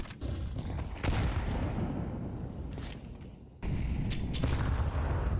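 A grenade blast in a Counter-Strike match on Dust2: a loud broadband boom at about one second, a sharp cut at three and a half seconds, then a second heavy burst of rumbling noise continuing to the end.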